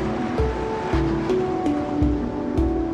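Sea waves breaking on the shore of a remote fishing island, a steady wash of surf with periodic surges roughly every half second to second, close and moderately loud, no voices.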